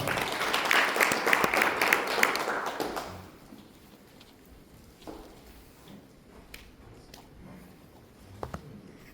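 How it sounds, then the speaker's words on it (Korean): An audience claps at a spring forum of a Korean national seafarers' union as a guest speaker is invited up. The applause is dense and steady for about three seconds, then gives way to quiet room noise with scattered taps. "박수 부탁드리겠습니다"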